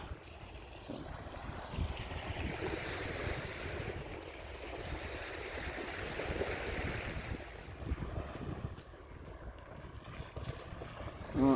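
Sea waves wash onto a beach on a morning walk, a steady rushing surf mixed with wind buffeting the microphone, continuous and moderately loud with no talking.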